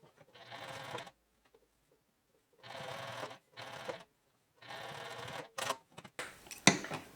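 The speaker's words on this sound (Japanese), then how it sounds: "見返しの型を縫います。" A sewing machine stitches the facing of a high-neck coat in several short, quiet bursts, each a few seconds long, separated by silent pauses.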